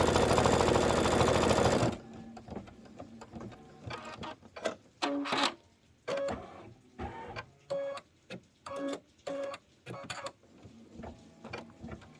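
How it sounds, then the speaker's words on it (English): A home embroidery machine stitches fairy light eyelets in yellow thread for a Christmas street lamp pillow, a loud burst of motor noise at first, then uneven rhythmic runs of stitching clatter with short pauses between bursts. "Step 6 is going to be stitch the fairy light eyelets"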